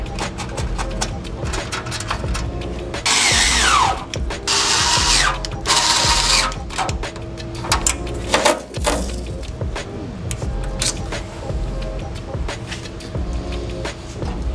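Power tool driving a bolt to secure a radiator piece on a BMW F30 340i during a B58 engine swap, heard in a few loud whirring bursts between about 3 and 6 seconds, followed by softer clanks and handling noises in a workshop.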